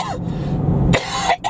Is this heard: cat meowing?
no